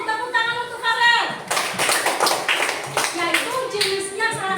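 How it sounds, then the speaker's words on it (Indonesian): Classroom applause breaks out for a student after a correct answer, a busy patter of many hands clapping for a few seconds while a teacher's voice talks over and around it. "Tepuk tangan untuk Farel."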